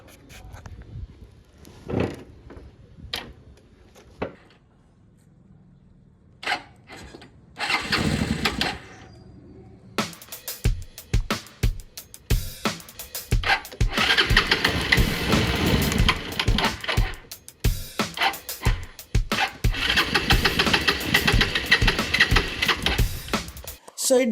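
A Bajaj Pulsar motorcycle under restoration is cranked repeatedly, with choke pulled; short bursts of starting attempts give way to rough running that dies, then roars into longer uneven revving, close and loud.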